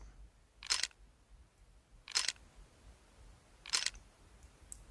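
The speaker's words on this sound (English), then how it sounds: "whenever you inspect your weapon, it makes a very distinct sound." Three crisp, quiet mechanical clicks spaced about a second and a half apart, a pistol inspect sound in the mobile shooter game Critical Ops, close and alone over faint background hum.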